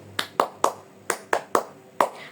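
A classroom group claps the 'tepuk semangat' cheer rhythm during a micro-teaching lesson: six sharp, close hand claps in an uneven pattern, two quick pairs then spaced single claps, with no voices.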